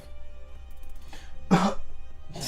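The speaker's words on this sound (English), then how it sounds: "Elbow cough." A single muffled cough into the elbow bursts out near the middle, close and fairly loud over a quiet room hum, with a faint breathy sound just before and another starting at the end.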